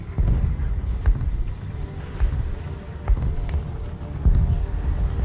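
A Mark IV tank engine in the War Thunder video game rumbles as a low, continuous drone with rough, fluttering texture, steady and fairly loud throughout, with no talking over it.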